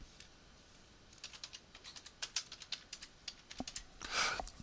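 Computer keyboard keys clicking as a payment note is typed into billing software, a quick irregular run of close taps, faint and alone.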